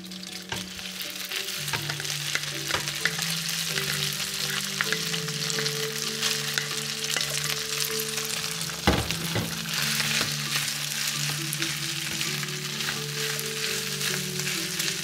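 Garlic fried rice sizzling loudly in a hot pan with crispy fried garlic, a dense continuous hiss under repeated scraping stirs and one sharp utensil knock midway, close and without any voices.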